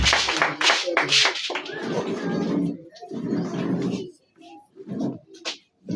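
A worship congregation claps and cheers in acclaim of Jesus, with dense rhythmic clapping and voices at first, then a spoken voice and scattered shouts as the clapping fades out.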